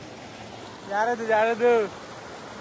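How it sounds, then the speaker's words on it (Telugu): A waterfall and stream near a riverside spot in the rain rush in a steady broadband roar, with someone speaking briefly over the water. "water falls"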